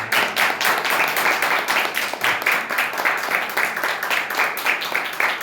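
A church congregation claps together in a fast, even rhythm during a worship service. The clapping is loud and continuous, with voices mixed in underneath.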